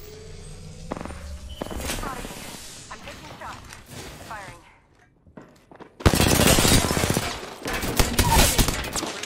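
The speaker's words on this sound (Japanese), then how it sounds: "まだ奥で銃声がする。" Gunfire in the shooter game Apex Legends: scattered shots and noise at first under a talking player, then a loud, sustained burst of rapid automatic fire, like a submachine gun, dominates the latter half.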